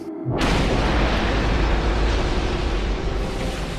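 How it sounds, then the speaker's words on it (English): Explosion of a World War II dam being destroyed, a loud, sustained roaring rumble that bursts in suddenly and holds steady to the end. "a big part of the dam has already been damaged, and the dam has exploded."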